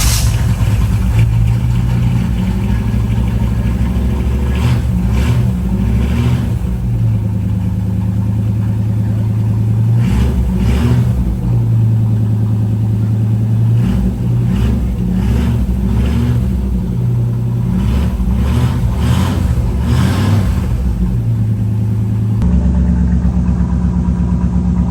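A 1960 Chevrolet Impala engine with Cherry Bomb M80 dual exhaust idles and rumbles throatily, revving up in several repeated bursts before settling back to a low idle.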